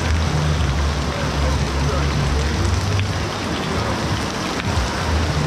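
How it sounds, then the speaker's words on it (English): Heavy storm rain pounds steadily on tents, a dense continuous roar with no breaks, loud and close throughout, with faint low rumbles beneath during an outdoor mural painting session. "we were wondering if the rain gets any better because there is a difference between rain and the complete rainy massacre"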